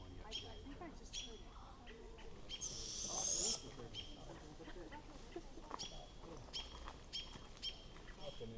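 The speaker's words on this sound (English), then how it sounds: "So a local is telling us they are juvenile barred owls." Juvenile barred owls call in a Washington State city park at Whatcom Falls, with a faint high raspy screech and scattered thin calls under steady rushing background noise, while people talk nearby.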